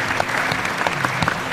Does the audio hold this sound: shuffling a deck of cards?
no